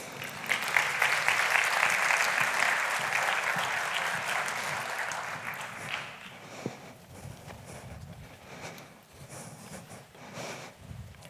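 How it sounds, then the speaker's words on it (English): An audience at a finance conference session applauds panel guests: loud, dense clapping for about six seconds that thins into scattered claps and room rustle. "Ladies and gentlemen, please, a round of applause for my expert guests."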